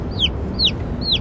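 A silver laced Wyandotte chicken gives three short, high rising-falling chirping calls at an even pace, close by over a low background rumble.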